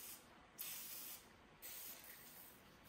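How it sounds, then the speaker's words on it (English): WD-40 lubricant sprayed from an aerosol can onto a speedometer cable during a Grand National dash gauge job, two close, sharp hissing bursts, each about half a second to a second long, over a faint background. "You take some WD-40 or some other type of lubricant and you spray on the"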